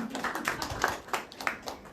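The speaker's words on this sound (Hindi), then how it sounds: "इनके लिए तालियां" An audience at a Rajyoga spiritual talk at Shantivan claps together, a quick run of distinct, fairly close hand claps lasting about two seconds.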